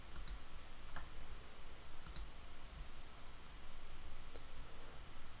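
A computer mouse gives a few faint, sharp clicks spaced about a second apart over a quiet, steady hiss.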